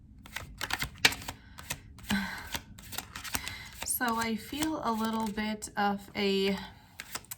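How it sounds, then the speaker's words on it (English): A Witch's Tarot card deck being shuffled by hand, quick close riffling bursts and card flicks repeating steadily while someone talks over them. "I will start shuffling my Witch's Tarot deck and see what comes through"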